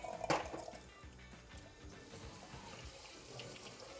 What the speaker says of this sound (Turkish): Öncelikle pirincinizi bir yıkamanızı isterim.